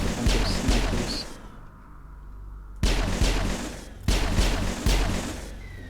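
Gunfire from snipers in the video game Mass Effect, several sharp, loud shots in clusters, a brief quiet gap, then more close bursts of firing.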